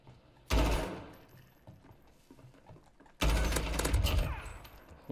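Two loud bursts of gunfire in a multiplayer shooter video game, each a sudden close volley lasting about a second or more, separated by a quieter stretch of faint game ambience.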